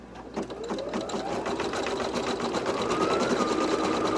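A Brother Innov'is 1600E sewing machine stitches appliqué with a fast, steady mechanical whir and rapid needle chatter, its pitch rising slightly as it runs continuously and close, with no talking.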